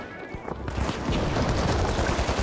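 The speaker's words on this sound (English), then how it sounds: "Chucking frags." Frag grenades and gunfire in the first-person shooter The Finals, a dense, loud barrage of overlapping shots and blasts that grows heavier after a brief opening, with no talk.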